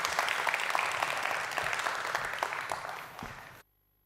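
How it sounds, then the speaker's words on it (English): Warm applause in a conference hall welcoming a remote speaker, a steady spread of clapping from the room that gradually fades before cutting off abruptly. "Please, a warm round of applause."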